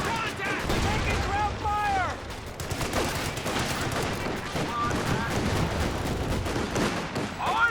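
Suppressing gunfire in Company of Heroes 2 rattles in dense overlapping bursts, with booming impacts and explosions mixed into a busy battlefield din, while a commentator speaks over it.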